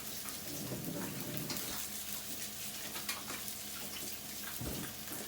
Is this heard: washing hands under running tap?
yes